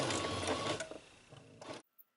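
A sewing machine runs steadily, close and fairly loud, stitching an elastic casing along the edge of a fabric crop top, then stops abruptly.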